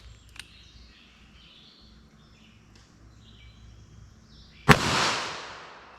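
A single .22 Magnum Speer Gold Dot round is fired at a steel barrier in front of ballistic gel, one sharp, loud crack after a stretch of quiet, followed by a ringing, fading tail.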